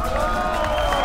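A live audience at an on-stage arrival event for a sailor fills the space with continuous applause and crowd cheering, a dense, steady roar of clapping throughout.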